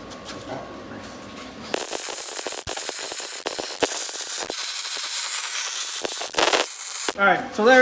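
Arc welding on the cracked tongue of a Triton TR20 bass boat trailer: a steady crackling, sizzling hiss that runs for several seconds with brief breaks, close and fairly loud, ending with clattering handling noise.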